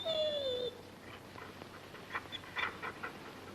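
A dog gives a long, drawn-out whimper, a high whine that drops in pitch, followed by faint, scattered yips and snuffles in a quiet indoor scene from a 1960 Western television episode.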